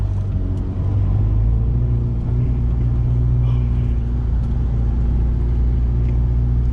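A 2007 Ferrari F430 drives along, its engine a steady, loud low drone with a deep rumble that holds evenly throughout, heard from inside the car with no talking.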